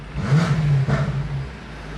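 A Mercedes C63 AMG's twin-turbo 4.4-liter V8 gives two quick, close blips of revving, each rising and dropping back within a couple of seconds.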